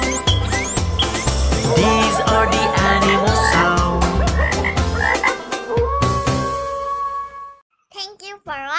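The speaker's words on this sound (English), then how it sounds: "The frog goes ribbit," A frog croaks in a children's animal sounds song, the croaks sitting inside a busy musical backing that plays throughout, with a few brief louder calls standing more alone near the end.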